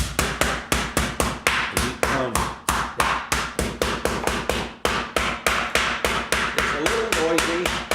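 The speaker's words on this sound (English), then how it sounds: "An essential part of every well-equipped kitchen, a meat pounder." A meat pounder hammers meat in a kitchen, about thirty sharp, evenly spaced thumps in a steady fast rhythm, loud and close, with no talking.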